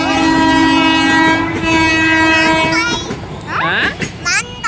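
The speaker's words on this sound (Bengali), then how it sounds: "এই দা নিচে দেখো ট্রেন না মালগাড়ি" A goods train rolls past with loud, sustained horn tones and rumbling wagons, close and continuous, while a child and an adult talk over it.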